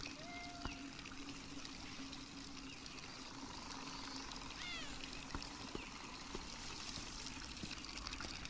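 Gentle water trickle from a fountain in a cute indie game, a steady soft babble running throughout with faint chirps and small clicks over a low hum.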